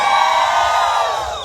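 A large crowd roars and jeers in a sustained, loud wave of booing, a dense mass of voices held for the whole stretch.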